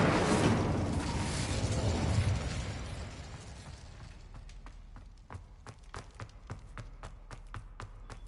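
A fire spell cast in the Hogwarts Legacy video game: a loud roaring burst that fades over a few seconds, followed by a run of sharp crackling pops and clicks at irregular intervals.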